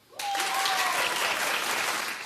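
A talk-show studio audience bursts into loud applause that starts abruptly and keeps going steadily, with a brief whoop near the start.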